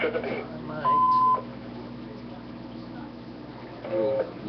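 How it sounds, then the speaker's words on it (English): An answering machine plays two short electronic beeps, a longer tone then a slightly higher one a few seconds later, with a voice speaking briefly at the start. "Leave your message after the beep"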